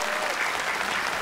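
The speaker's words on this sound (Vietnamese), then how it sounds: "Một tràng pháo tay thật lớn cho tất cả" Steady, dense applause from a large crowd at a beauty pageant awards ceremony, loud and continuous throughout with no gaps.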